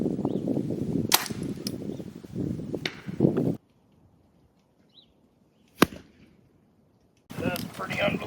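A rifle shot at a target 130 yards away cracks once as a sharp, loud report between stretches of talk, with a faint distant impact following after a quiet gap.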